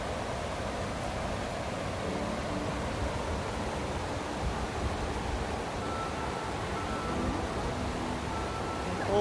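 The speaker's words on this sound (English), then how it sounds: "That's the water coming from that miniature dam that's feeding this river right here." River water pours from a miniature dam in a wetlands nature preserve, giving a steady, even rushing hiss that runs unbroken at moderate loudness with no voices.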